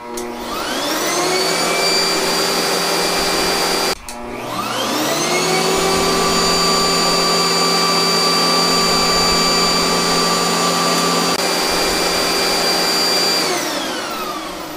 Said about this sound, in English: we will now test the vacuum in use